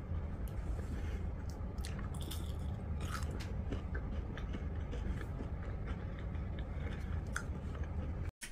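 Close, steady chewing and biting of fried shrimp, with crunchy bites repeating over a continuous low background hum; no one talks.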